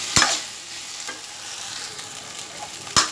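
Drumstick flowers with turmeric fry in a pan, a soft continuous sizzle broken by two sharp, close scrapes of a spatula near the start and end, with no talking.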